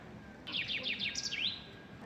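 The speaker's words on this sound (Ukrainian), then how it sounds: "Тут десь одна пташечка так голосно співає." A small bird sings a quick series of bright, rising chirps, clear and fairly close, over a quiet background hum.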